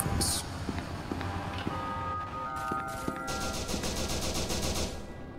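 Rapid bursts of gunfire in the video game SCP: Secret Laboratory, crackling in quick repeated volleys with single sharp shots between, loud and close over a steady game background.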